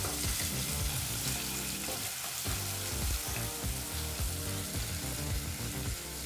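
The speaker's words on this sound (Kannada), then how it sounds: "ಈಗ ಮೀಡಿಯಂ ಫ್ಲೇಮ್ನಲ್ಲೇ 2 ನಿಮಿಷಗಳ ಕಾಲ ಈರುಳ್ಳಿನ ಫ್ರೈ ಮಾಡ್ಕೋಬೇಕಾಗತ್ತೆ" Finely chopped onion fries on a medium flame in a pressure cooker for pulao, giving a continuous sizzle under loud background music.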